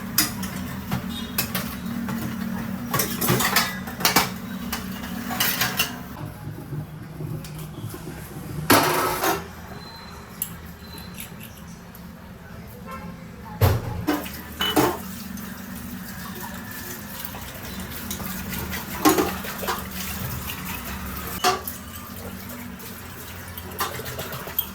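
Dishes, pots and pans being washed in a home kitchen, with a steady trickle of running water under intermittent clinks and clatters of metal and crockery close by. No one speaks.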